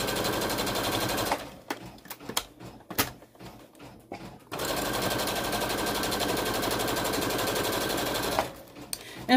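A flatbed embroidery machine stitches a potholder, its fast steady needle chatter running loud and close, pausing for a few seconds of irregular clicks before resuming.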